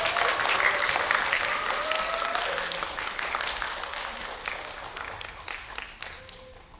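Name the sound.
cinema audience applause welcoming guests on stage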